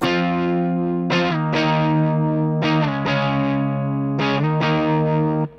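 Electric guitar chords with light distortion from a guitar lesson, several strummed hits ringing out in a steady rhythm, loud and close with no voices.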